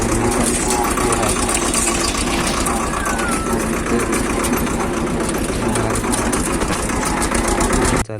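A farm tractor carrying maize runs steadily with a loud, rapid, chugging engine beat close by, a continuous mechanical rattle that cuts off abruptly near the end.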